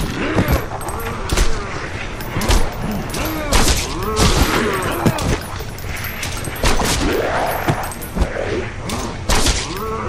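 Gunfire from the VR zombie shooter Lop Nor Zombie: repeated sharp shots in uneven bursts, loud and close, mixed with thuds and growling game sounds over about ten seconds.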